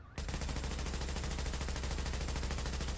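Fast automatic gunfire in Tom Clancy's The Division rattles in a continuous, rapid, even burst, loud and close for about three seconds.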